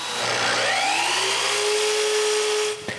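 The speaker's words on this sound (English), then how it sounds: "Next, I trace for the inside of the frame and cut some rabbets." A power tool runs steadily and loudly while cutting rabbets into a wooden lamp frame, with a rising whine as the cut settles, then it cuts off abruptly near the end.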